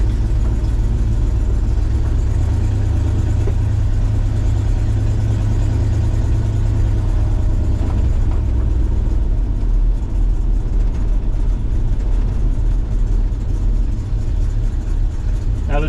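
1948 Chevrolet 3600 pickup truck with a 350 V8 engine driving, a loud continuous low rumble near the listener that holds steady throughout with slight rises in engine pitch.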